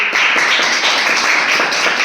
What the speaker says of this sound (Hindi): ताली बजाओ इसके लिए सब लोग